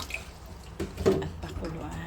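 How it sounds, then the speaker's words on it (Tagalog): Water poured into a pot to boil salted eggs, heard as faint, intermittent splashing and trickling, growing briefly louder near the middle before settling into softer dribbles, with a voice speaking in the background. "Buhos natin dito yung tubig"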